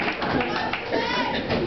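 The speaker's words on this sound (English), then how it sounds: "The crowd is wild." Crowd applause at a live music performance by a singer and harmonica player in Canmore, a steady wash of clapping and cheering that fills the whole moment without letting up.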